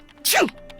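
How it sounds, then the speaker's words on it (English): A single short, sharp sneeze bursts out in the Nancy Drew: Curse of Blackmoor Manor adventure game, loud and close, over a faint background. "Achoo! Gesundheit."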